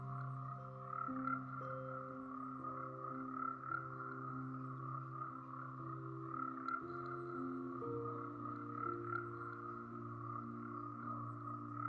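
Dart frogs call steadily in a tropical rainforest, layering rhythmic, overlapping croaks and trills that drone on throughout at a moderate distance, with no voices.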